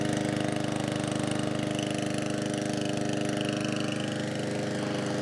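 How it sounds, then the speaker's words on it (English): A gas-powered 3-in-1 lawn mower with a grass bag runs steadily after starting on the first pull, its engine drone loud, close and continuous throughout with no talk. "The motor sounds powerful."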